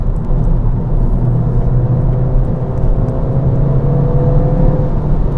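Inside a stock Ford Fiesta ST on a windy road, steady engine and road rumble hold at a constant level, with tyre and wind roar filling the whole stretch.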